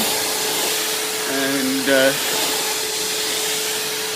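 A vacuum cleaner passes over a coffee table surface that has been sanded down, making a steady, close airy roar. A person speaks briefly over it.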